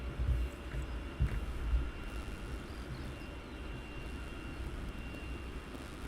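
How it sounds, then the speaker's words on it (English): A Wizz Air airliner departing Luton Airport makes a faint, distant engine rumble that swells briefly early on, then holds a low, steady drone. "Next is another Wizz Air departure."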